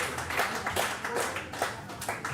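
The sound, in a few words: spectators applauding at a bowls match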